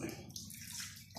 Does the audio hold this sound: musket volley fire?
no